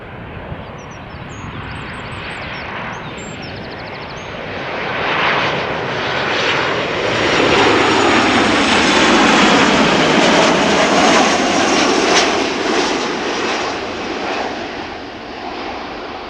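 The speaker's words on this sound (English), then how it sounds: "The 737 arriving from Berlin has been underway now for 1 hour and 4 minutes." A Boeing 737, registration PH-BXB and about 25 years old, arrives from Berlin at Amsterdam Schiphol with a loud, close jet engine roar that swells from about four seconds, holds strong, then eases slightly near the end.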